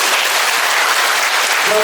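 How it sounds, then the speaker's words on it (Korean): An audience in a Catholic parish hall claps at an appointment ceremony, a loud, even burst of applause that holds steady across the moment. "다시 한번 뜨거운 박수"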